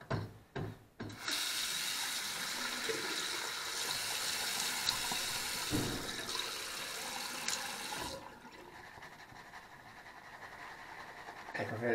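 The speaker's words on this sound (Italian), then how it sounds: "Chiaramente devo però aggiungere acqua." Water runs steadily from a tap into a high-sided shaving bowl, a continuous hiss of flow for several seconds that then thins and softens, heard alone without talking.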